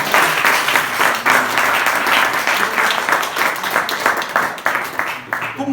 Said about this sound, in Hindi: क्यों जोरदार ताली बजाओ तक्षशिला के लिए।